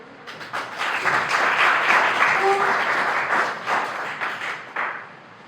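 An audience claps at a teacher-training college welcome ceremony, the applause swelling to a steady dense patter, holding for several seconds, then thinning and tapering off near the end.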